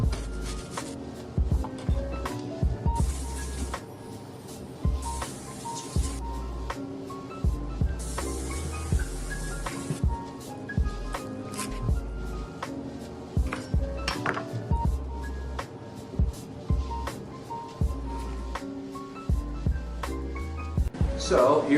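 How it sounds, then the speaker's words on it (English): Repeated knife strikes on a cutting board mixed with clinks of utensils and dishes, a steady kitchen clatter close to the listener. "Alright then, let's get to chopping."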